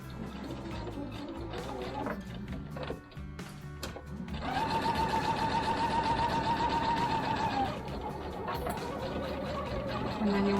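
Home sewing machine stitching a two-tone fabric snack bag, its motor running in a steady rapid whir that starts partway through and continues for several seconds, with softer handling noises before it.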